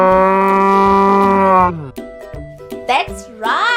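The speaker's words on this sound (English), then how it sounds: "A cow moos." A cow gives one long, loud, close moo that holds steady before trailing off, followed by a few shorter, fainter bovine sounds.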